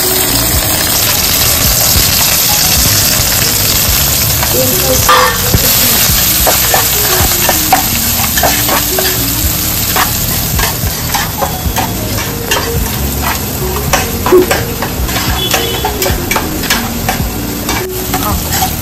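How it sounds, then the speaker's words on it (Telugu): Green chillies, onions and curry leaves frying in oil in a pan, a loud close hiss of sizzling with frequent scraping and stirring clatter, steady throughout. "దీంట్లో పచ్చిమిర్చి, ఉల్లిపాయలు, కరివేపాకు దీంట్లో వేసుకుందాం"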